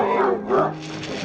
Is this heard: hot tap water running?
no